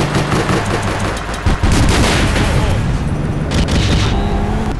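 Gunfire in the online game APB Reloaded: loud, rapid bursts of shots and booming impacts packed tightly over several seconds, with a voice talking under the shooting.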